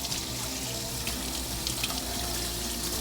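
A kitchen tap runs steadily into a sink while seafood is cleaned for a seafood boil, a constant close splashing stream with no talk.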